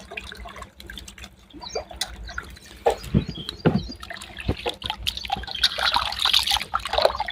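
Splashing and trickling water with a few soft plops as potato slices for chips drop in, growing busier and louder toward the end, close by.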